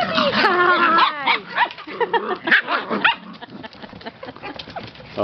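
A puppy barks and yips in quick bursts near the microphone, with whimpery high notes, while people call and talk over it during an outdoor puppy race.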